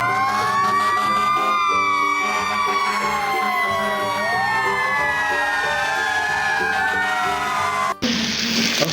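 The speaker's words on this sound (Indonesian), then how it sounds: "yang ini mobil pemadam kebakaran" A toy fire truck sounds its siren, several wailing electronic tones sweeping up and down over a bright looping tune, loud and steady until it cuts off abruptly near the end.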